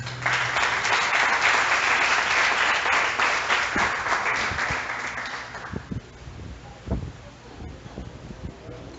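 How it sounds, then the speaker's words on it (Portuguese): A church congregation applauds the Lord at an evening worship service. Loud, dense clapping fills the room for about six seconds, then fades into scattered claps and small noises. "Vamos aplaudir o Senhor."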